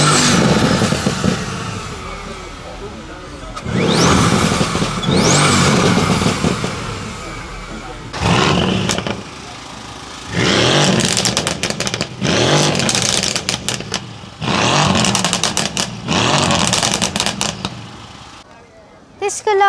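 A supercar fitted with mechanical blow-off valves and downpipes revs loudly at a car show in repeated bursts, with people talking nearby between and over the revs.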